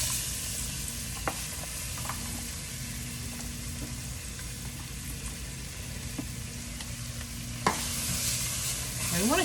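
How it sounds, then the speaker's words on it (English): Vegetables for crawfish etouffee sauteing in a pan: a steady, even sizzling hiss that runs throughout, with a few faint clicks of stirring and a brighter scrape near the end, no voices. "will continue cooking as we are sauteing our vegetables in here"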